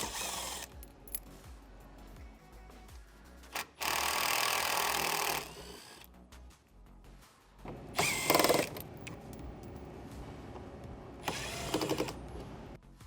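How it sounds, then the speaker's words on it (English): A power tool backs out 10 millimeter bolts from a panel on a Rivian R1S, with three loud whirring bursts separated by clicks, handling clatter and quieter gaps, close up with no talk. "So right now we're going to remove the two 10 millimeter bolts."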